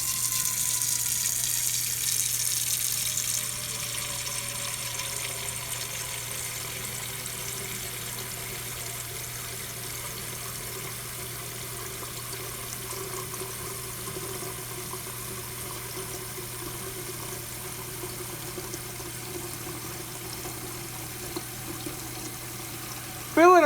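Tap water runs steadily into a kitchen sink as it fills, a constant rushing stream with a slowly shifting pitch, loud and close, with no talk over it.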